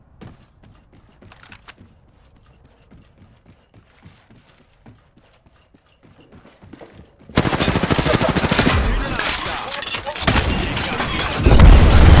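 Gunfire erupts in the Apex Legends battle royale game: after several seconds of quiet, faint activity, a loud, dense barrage of rapid shots and impacts runs continuously to the end.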